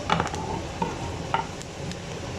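Onions frying in hot oil for a dal tadka, a continuous close sizzle with a few light stirring scrapes and clinks, no voices.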